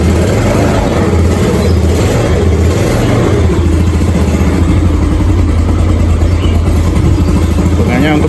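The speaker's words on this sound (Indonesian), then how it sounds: "untuk motor yang sudah cukup berumur, mesinnya masih halus banget loh" A Yamaha Nouvo Sporty scooter engine runs steadily at a smooth idle with a low, even drone throughout, while voices talk over it.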